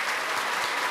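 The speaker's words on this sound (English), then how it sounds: "Round of applause for everybody." Dense, steady applause from a large crowd at a Tesla annual shareholder meeting, a continuous wash of clapping with no gaps.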